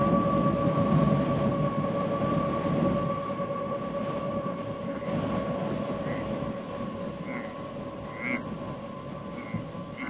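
A train runs on a desert railway with a continuous low rumble and a steady metallic hum or whine, holding at an even, moderate loudness for the whole stretch with no talk.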